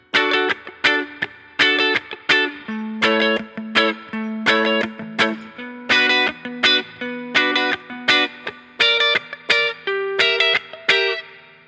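Electric guitar, apparently with effects or distortion, strums a song's chord progression, with steady rhythmic chord hits and bass notes played alone and close up.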